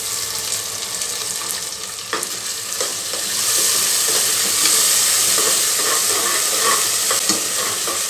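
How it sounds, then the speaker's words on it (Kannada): Ginger, garlic and green chilli paste sizzles in hot oil with fried onions in a pan, a steady close frying hiss with occasional stirring clicks, growing slightly louder partway through. "ಇವಾಗ ಶುಂಠಿ ಬೆಳ್ಳುಳ್ಳಿ ಪೇಸ್ಟ್ ಹಾಕ್ತಾ ಇದ್ದೀನಿ ಶುಂಠಿ ಬೆಳ್ಳುಳ್ಳಿ ಮೆಣಸಿನ್ಕಾಯಿ ಪೇಸ್ಟ್ ಇದು"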